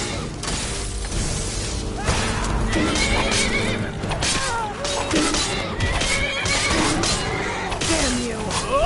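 In the video game Skyrim, a horse neighs and whinnies repeatedly in loud, wavering cries over hoof clatter and combat clashes, with a voice speaking briefly among them.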